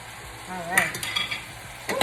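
Sautéed vegetables for veggie burritos are stirred in a pan, giving a soft scraping swirl with light sizzle, close and fairly quiet, a few brief louder strokes over about two seconds.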